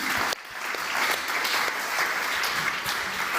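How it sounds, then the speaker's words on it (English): Loud, dense applause from a conference audience at a BMW Foundation Responsible Leaders Dialogue and F20 G7 high-level event, sustained steadily after a brief dip near the start. "Please give them a round of applause for being so categorically clear."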